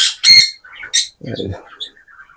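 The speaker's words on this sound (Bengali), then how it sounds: "এটা মেল পাখি আর ফিমেল, এটা টেম টিয়া পাখি" A tame parrot on a farm lets out a couple of sharp, harsh squawks close by, followed by softer chirping calls and a brief low murmur, all within a couple of seconds.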